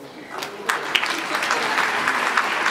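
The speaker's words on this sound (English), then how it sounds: "But I clap for ourselves." Audience clapping at a stand-up comedy show, a few scattered claps building into steady applause that carries on for a couple of seconds.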